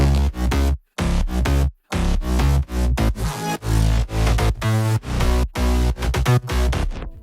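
Heavy, distorted dubstep-style synth bass presets in short, gritty bursts. The bass pumps in a choppy rhythm, cut by sharp silent gaps, and is loud and dense throughout.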